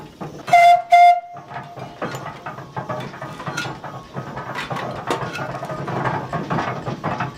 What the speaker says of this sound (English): the machine we have behind us is a 1908 Dolbeer steam logging machine